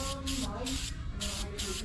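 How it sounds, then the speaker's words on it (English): An aerosol can sprays K&N filter oil onto a pleated air filter in five short hissing bursts, close and fairly loud, with brief pauses between them. "I'm gonna take the K&N filter oil, which is an aerosol, and I'm simply gonna spray it on"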